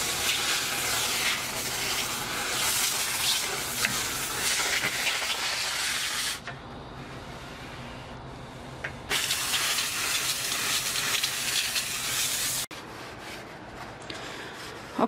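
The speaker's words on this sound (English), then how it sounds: "she finished to using the vapor steamer in this area" A vapor steamer works through a house cleaning job with a loud, continuous hiss. The hiss stops briefly twice, leaving a quieter background, then resumes.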